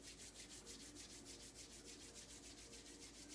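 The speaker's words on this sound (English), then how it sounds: "Now we harvest our chi by bringing our hands together and rubbing them." Palms rub briskly together during a qigong session, a soft, close, steady swishing friction in an even back-and-forth rhythm, quiet and alone.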